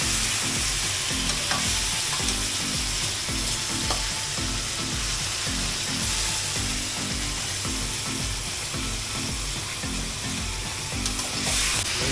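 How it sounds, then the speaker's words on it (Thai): Catfish stir-fried in a pan with soup stock, a loud continuous sizzle with rhythmic scraping and clattering from stirring throughout, close up and without talk. "ก็ผัดไปเรื่อยๆครับ"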